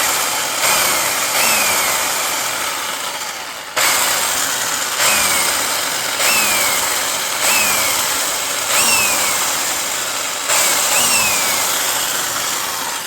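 A Rockwell belt sander runs on a replacement gear with a steady mechanical whir, broken by a regular series of sharp clicks or knocks roughly every second, close and fairly loud.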